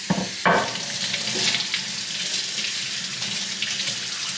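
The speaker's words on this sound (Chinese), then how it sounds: "第一步呢，先下水洗一洗看看呀。" Tap water streams steadily onto a walnut cutting board being rinsed in a kitchen sink, a loud continuous hiss and splash after a brief clunk at the start.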